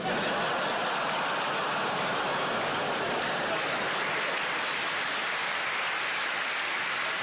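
A stand-up comedy audience applauds steadily throughout, dense clapping with a few scattered laughs mixed in.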